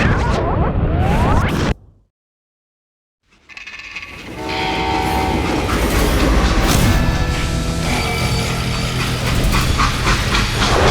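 A train rumbles loudly in the Call of Juarez Gunslinger video game, with sharp mechanical clatter, then a moment of near silence before the heavy rolling noise and rail clanking return and continue steadily.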